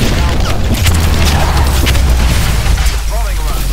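A Manticore missile strike explodes in Call of Duty: Advanced Warfare, a loud close boom with heavy low rumble and crackling debris, sustained across the moment amid other gunfire and game sounds.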